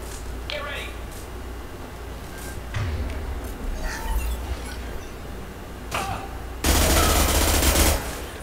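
Weapons fire in Mass Effect 2 as scattered shots and short bursts, ending in a loud, sustained volley of automatic fire near the end, with voices faintly underneath.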